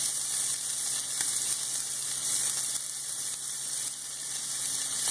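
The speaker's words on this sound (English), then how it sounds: "this pan is extremely hot and the oil will pop at you" Shrimp sizzle in very hot oil in a pan, a steady, close, crackling hiss with scattered pops running throughout, with no voices.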